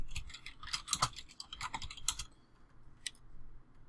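Quick bursts of typing on a computer keyboard, close and fairly quiet, with clustered keystrokes, a brief pause and one last tap.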